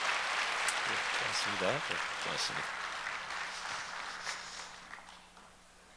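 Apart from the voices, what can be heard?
applause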